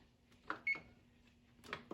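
An oven switched on, a few quiet electronic beeps and clicks from its control panel, with one clear tone standing out, in a quiet kitchen.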